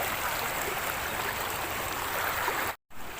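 Strong river current at Daraitan river in the Philippines, a steady loud rushing and gurgling of water up close that is cut by a brief dropout near the end.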